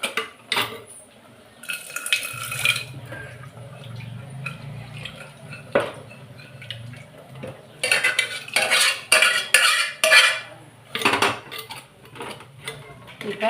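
Cooked dal and spinach mashed and stirred together in a metal pot, with scraping, clinking utensil strokes in irregular bursts over a low steady hum, close up.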